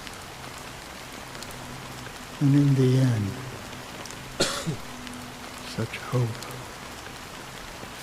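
Steady rain falls in the game Honkai Star Rail, a continuous soft hiss running beneath a speaking voice and a few short vocal bursts.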